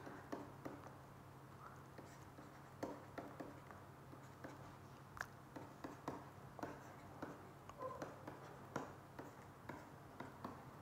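Equations handwritten during a lecture, faint scratchy pen strokes and small taps spread irregularly over about eleven seconds against a low room hum.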